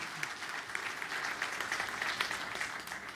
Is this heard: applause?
yes